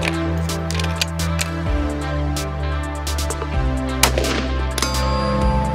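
Long-range rifle shot fired at a can target during an outdoor shooting competition: a sharp crack rising above a steady, droning background with a few smaller clicks.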